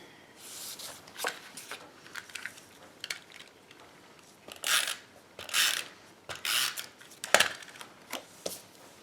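Cardstock is sliced on a paper trimmer while layered Stampin' Up! and Carta Bella holiday card pieces are trimmed down, giving a run of short scraping and clicking strokes in uneven bursts, fairly close and moderately quiet, with no talking.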